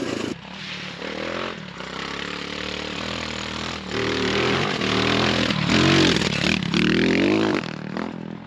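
An X Pro Storm DLX 250 ultralight dual sport motorcycle rides along dirt trails. Its engine drones loudly and continuously, rising and falling as the throttle opens and eases off, with no talking.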